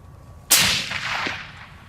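A Remington 700 rifle chambered in 300 Win Mag fires one round at a range, a single sharp, loud crack that decays quickly into a rolling echo lasting over a second.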